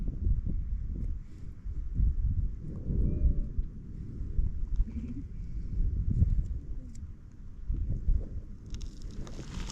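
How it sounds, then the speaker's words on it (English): Thunderstorm on Pacaya Volcano, with heavy low rumbling thunder rolling continuously across the whole stretch and a faint hiss of rain or wind above it, loud and close, no talking. "The video doesn't do justice for how intense that storm was."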